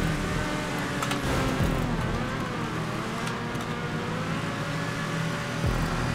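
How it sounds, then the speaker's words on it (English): A steady car engine hum in Grand Theft Auto V with a faint revving whine runs throughout, continuous and moderately loud, with no voices. "I can hear the hum of that engine."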